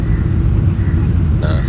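An Emirates Boeing 777-300ER lands at Trivandrum, heard from inside the cabin as a loud, steady low roar of engine and airflow, with a voice talking over it.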